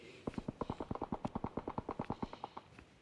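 A sniper machine gun fires in a shooter video game, a rapid even burst of around twenty sharp shots over three seconds, fairly quiet and distant-sounding.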